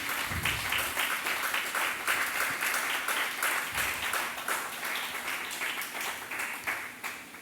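Congregation in a church service applauding as an offering to the Lord, a dense, steady wash of many hands clapping close and loud for several seconds, no voices over it.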